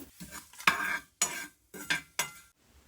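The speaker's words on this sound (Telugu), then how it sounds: "అందులో మన బిర్యానీ మసాలా ఫస్ట్ ఒక 1 మినిట్ ఫ్రై చేసుకోవాలి." A spoon stirs biryani masala frying in oil in a pan, giving four distinct scraping strokes with a faint sizzle underneath and short pauses between them.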